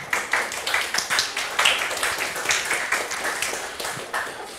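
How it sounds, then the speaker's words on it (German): Audience applause welcoming a speaker onto the stage at a tech talk on COBOL and hierarchical databases: a modest, uneven run of hand claps from a small crowd, fairly near, with individual claps clearly separable. "Bitte begrüßt mit einem tosenden Applaus Habrock"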